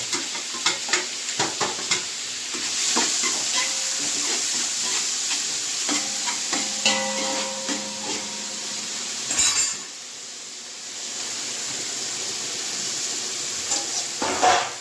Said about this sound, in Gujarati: તો આપણે કઠોળ વઘારી ગયા છે